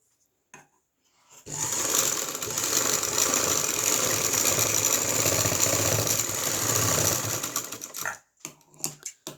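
A sewing machine stitches the neckline of a lined kurta, a steady rapid mechanical whirring and clatter for about six seconds, starting and stopping abruptly with faint handling clicks around it, no speech.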